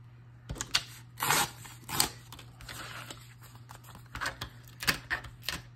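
Paper being trimmed from a junk mail envelope, heard as a series of crisp cutting and snipping sounds in irregular bursts, close and moderately loud, with a steady low hum underneath and no talking.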